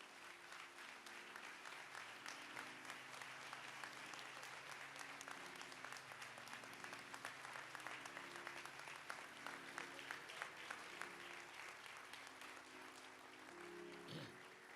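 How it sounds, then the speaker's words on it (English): A large audience at a memorial service in Minneapolis applauds continuously, a dense, sustained wash of clapping heard from within the crowd with no talk over it. "Please give a great round of applause for the Reverend Al Sharpton."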